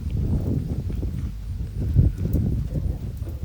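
A horse's hooves clip-clop in a soft, even trot while circling during schooling, a steady close rhythm on soft footing with no talking.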